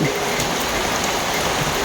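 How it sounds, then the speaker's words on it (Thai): Steady, heavy rain pours down close by, a dense continuous hiss with scattered drops pattering on a surface. "ตอนนี้ฝนก็ตกนะครับ"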